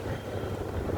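Wind buffeting a microphone on a blustery day at the Las Palmas docklands, a steady low roar with no distinct events and no voices.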